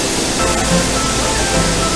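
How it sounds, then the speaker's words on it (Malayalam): Powerful waterfall at Thooval Waterfalls in Idukki, a loud, steady, broadband roar of falling water close by, with no voices. "ഇതാണ് നമ്മുടെ വാട്ടർഫാൾസ് നല്ല അടിപൊളിയാണ് കാണാനൊക്കെ വെള്ളം നല്ല പവറിലാണ് വന്ന് വീഴുന്നത്"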